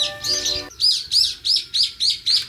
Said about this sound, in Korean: 이렇게 새소리를 들으면서